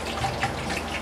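A kitchen faucet runs steadily in a short, continuous hiss of water over a sink during hand washing while cooking, close and even, with no speech.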